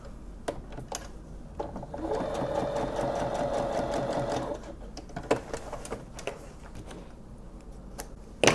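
Sewing machine stitching down an invisible zipper, a close mechanical whirr that starts and stops in short bursts with clicking needle strikes and a longer steady run in the middle.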